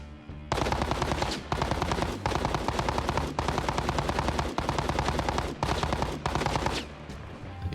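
MK48 light machine gun in Arma Reforger firing long, loud, close automatic bursts with rapid rhythmic reports, broken by a few short pauses between strings of shots.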